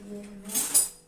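A metal spoon clinks briefly against other cutlery and a pot while being picked up in a home kitchen making methi laddu, two quick bright chimes close by.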